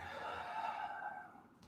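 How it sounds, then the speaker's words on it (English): Deep breathing during a live-streamed vinyasa yoga class, a single long, soft exhale swelling and fading alone over quiet room tone. "Deep breathing."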